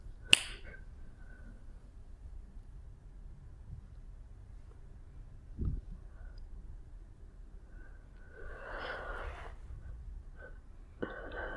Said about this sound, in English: I'm going to snap my fingers and you'll be there.